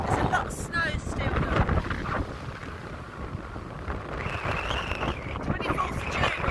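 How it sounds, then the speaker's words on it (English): Cold wind buffets the microphone at a snowy mountain summit in June, a constant rough roar that runs throughout while a person talks over it. "Probably hear the wind"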